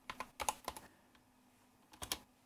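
Quiet typing on a computer keyboard: a quick burst of several close key clicks, a pause, then a few more keystrokes near the end.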